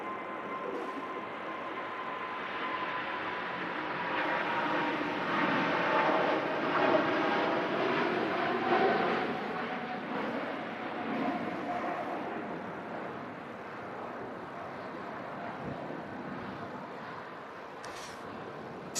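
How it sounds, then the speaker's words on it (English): A Singapore Airlines airliner departing Manchester Airport in strong gusts, its engine roar swelling and fading at moderate distance over a sustained rumble, with no speech. "Singapore about to embark on a farewell flight over the Atlantic."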